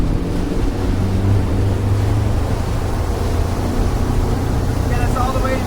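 A towboat's engine throttles up while pulling a foil rider across open water, a steady loud low drone blended with wind and water rush.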